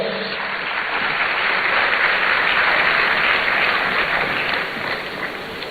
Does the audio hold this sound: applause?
yes